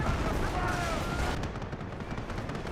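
Gunfire crackles through a Company of Heroes 1 battle, with dense, rapid bursts over a steady roar of combat and engine noise, easing slightly after the midpoint.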